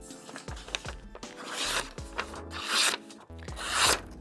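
A chipped knife blade is sharpened by hand in a series of rasping scrapes, each stroke a separate swipe with short pauses between, close and fairly clear with no voices.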